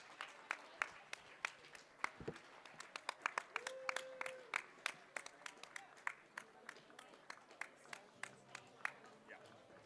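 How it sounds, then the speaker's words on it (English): Faint, scattered applause from a small crowd at the 2022 IPF World Masters Powerlifting Championships as the lifters walk to the platform, irregular individual claps heard from a distance with soft background murmur. "please join me in giving these ladies a round of applause"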